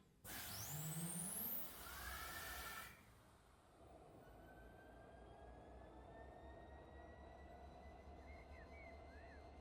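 A diesel locomotive engine, an SD70ACE in the Run8 train simulator game, cranks up with a loud rising whine and hiss, then settles into a low, steady rumbling idle.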